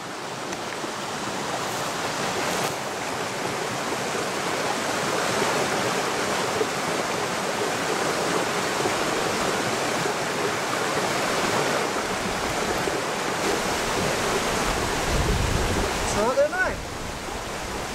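Steady broadband rush of creek water flowing in New Zealand hunting country during the red stag roar, continuous and fairly loud throughout with no clear voices.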